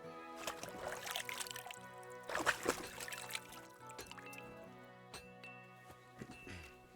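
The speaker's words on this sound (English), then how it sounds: "I need to wash myself." Splashing and trickling water as a character washes in Kingdom Come Deliverance 2, with clinks and sloshing bursts over a musical background, no voices.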